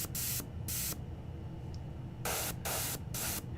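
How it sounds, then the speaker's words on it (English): An airbrush sprays contrast paint onto Warhammer 40k Centurion miniatures in four short hissing bursts, close and steady, separated by brief pauses with a faint background hum. "why don't I spray on some contrast paint?"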